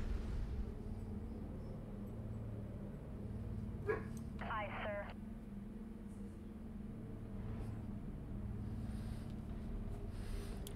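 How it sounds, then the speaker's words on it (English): A dog lets out a brief startled bark, a short yip or two, heard faintly in the background beneath a steady hum of ambient noise, with no talk over it. "You heard that startled bark."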